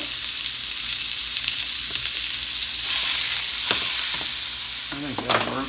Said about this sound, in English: let's just go ahead and add our ground beef,